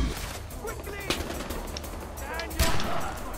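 Rapid automatic gunfire from a heavy enemy's minigun in the video game Far Cry 4, sharp bursts near 1.1 and 2.6 seconds over continuous game noise and faint voices.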